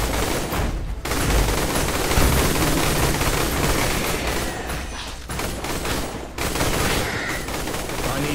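Dense, continuous gunfire in the Dino Horde video game's Rampage mode, with overlapping shots and booms filling the whole stretch, loud and close, broken by a couple of brief gaps.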